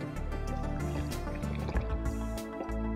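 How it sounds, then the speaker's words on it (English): Hot water is poured into a glass holding ground coffee, a continuous close trickling and gurgling fill with small splashes and drips that stays steady for a few seconds. "Then pour in some hot water."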